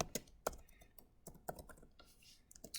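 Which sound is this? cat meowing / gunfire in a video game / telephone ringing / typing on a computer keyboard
typing on a computer keyboard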